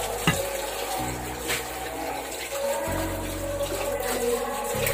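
Water from a tap runs steadily while vegetables are washed in a home kitchen in Surigao del Sur, a continuous close splashing flow with shifting low rumble.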